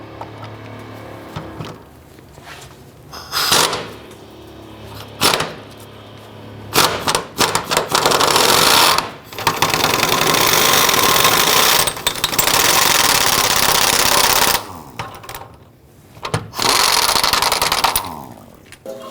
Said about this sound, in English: loosen and remove the 15mm bolt